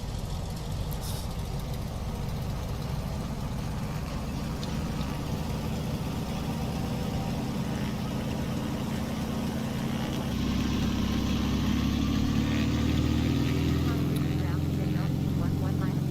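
Single-engine Carenado aircraft engine in a flight simulator running steadily, then throttling up to a louder, fuller drone near the end, with a voice talking over it.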